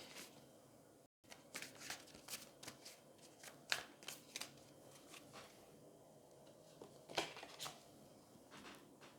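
Tarot cards being shuffled by hand during a reading, with a steady run of crisp riffling and soft slapping bursts, several sharper snaps near the end, close and fairly quiet with no voice.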